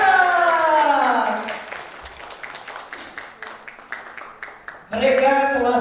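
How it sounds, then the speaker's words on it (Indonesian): Audience applause at the grand final of a children's ambassador contest in West Java, heard as scattered, fairly light claps between stretches of an amplified voice speaking at the start and end. "Tepuk tangan untuk Duta Jawa"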